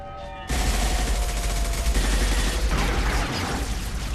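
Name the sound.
gunfire in Mass Effect 2 video game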